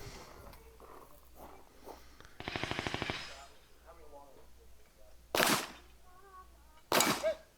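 Gunfire at a competitive shooting match: a rapid burst of shots around the middle, then two loud, sharp single reports later on. Voices can be heard talking in the background between the shots.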